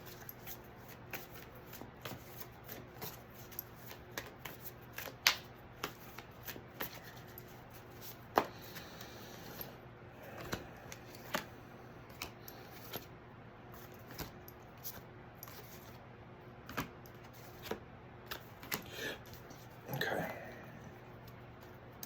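Tarot cards being shuffled by hand, soft close riffles and flicks coming in irregular bursts with small taps between them, faint overall.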